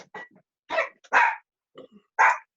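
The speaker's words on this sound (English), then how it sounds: "Sorry for my dog barking." A dog barks in several short, sharp bursts spaced across a couple of seconds, moderately close and loud with no talking over it.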